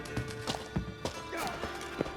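Horse hooves clip-clopping in The Witcher 3, a series of spaced, fairly distinct hoof taps at a walking pace with some faint background sound.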